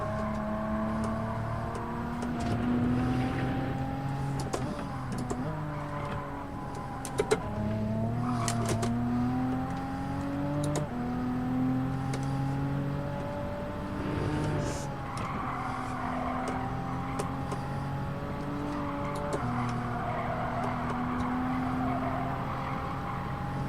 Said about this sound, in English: Let's see how fast this car can go.